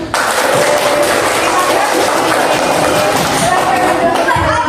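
A large crowd applauding, dense continuous clapping that fills the space evenly from start to finish.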